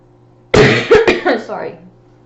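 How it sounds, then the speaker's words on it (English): A single loud cough bursts right next to the microphone, sharp and close, followed by a brief rough throat-clearing tail before quiet returns. "I coughed right near the microphone"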